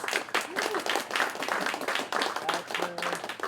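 Audience applause at a composition musicale honoring teachers: dense clapping from a crowd fills the room steadily, with a few brief tonal sounds and faint voices mixed in near the end.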